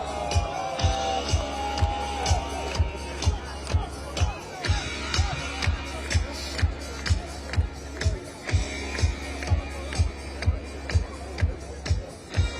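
A crowd waits for a Trump rally in the South Bronx, with steady murmuring and shuffling under a thumping, regular beat of loud music that plays throughout.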